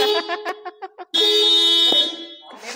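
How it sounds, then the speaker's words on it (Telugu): Electric scooter horns, compared across a 2024 TVS iQube S, Ather 450X and Ola S1 Pro Gen 2, sound as a series of short beeps followed by one long sustained honk, close and loud. "హారన్లు కొట్టండి రా చెప్పారా."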